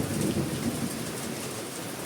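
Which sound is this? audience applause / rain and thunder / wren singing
rain and thunder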